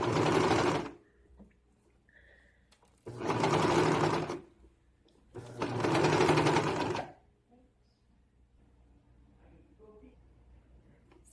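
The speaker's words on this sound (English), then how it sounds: "I'm going to serge it, but it might be easier to sew it and then serge it" A serger sewing machine stitches a fabric edge in three loud, close whirring bursts of about one to two seconds each, separated by quiet pauses with faint handling noise.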